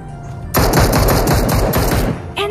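Automatic gunfire in PUBG Mobile erupts after a short quiet lead-in, a loud, rapid burst of close shots that runs for about two seconds before cutting off, followed by a brief voice.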